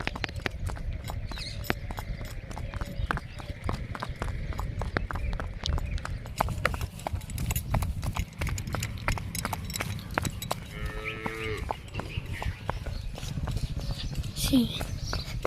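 Hooves of a mare clip-clop in a steady, quick rhythm close by, with a voice talking over them now and then.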